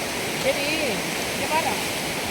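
Thirparappu waterfall pours in a steady, loud broadband roar of falling water, close and continuous, with faint voices barely rising above the rush.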